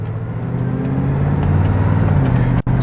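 1970 Oldsmobile Cutlass convertible engine while driving at about 40 mph, a steady loud low hum with a brief dropout near the end.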